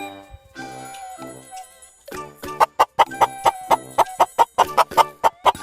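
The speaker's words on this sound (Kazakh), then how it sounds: "Chicken. Тауық немесе балапан." A run of sharp, evenly spaced clucks, loud and close, starts after a short melodic phrase and carries on rhythmically to the end.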